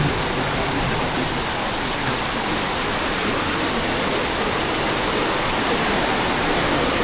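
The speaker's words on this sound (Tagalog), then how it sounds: "Grabe ragasa ang tubig." Powerful surging water at Wawa Dam, a loud, unbroken roar that stays constant throughout with no voices over it.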